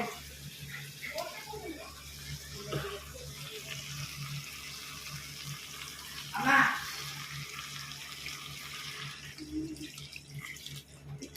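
Water is poured into chicken curry as it cooks, a soft running splash with one brief louder gush. People talk throughout.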